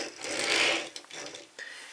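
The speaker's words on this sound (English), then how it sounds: "I let it roll around just like so." A GaoLion toy from the Gokai Machine Series rolls along on its small plastic wheels, giving a close, rattling, ratchet-like whir that swells then fades in short uneven bursts.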